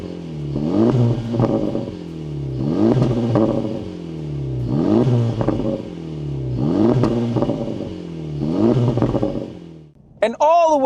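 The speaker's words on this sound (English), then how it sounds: "Listen to that engine." An Acura Integra Type S engine revving at a drag event: repeated throttle blips rising and falling in a steady rhythm, about five close revs in a row, each with a rasping, crackling exhaust note, ending with a brief sharp noise.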